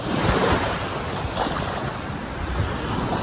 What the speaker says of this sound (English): I'm at the Atlantic Ocean